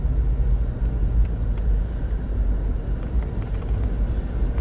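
A car climbs an upcountry Maui road through Makawao over speed bumps, its steady low engine and road rumble continuous and fairly loud, with no distinct thumps standing out.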